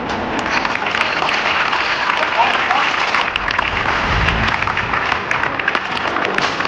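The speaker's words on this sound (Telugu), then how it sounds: "క్లాప్స్." Audience clapping at a school Women's Day celebration, a dense patter of hands running steadily throughout with some crowd noise and voices mixed underneath.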